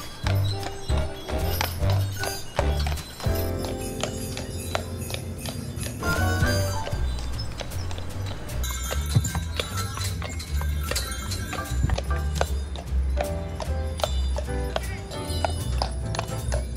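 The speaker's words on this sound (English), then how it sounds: "they normally do horse-drawn carriage rides throughout the evenings, but because of this time of year, they're doing sleigh rides" Hooves of a horse pulling a sleigh clip-clop in a steady rhythm, loud and close, with jingling and tonal festive sounds layered over it and some voices in the background.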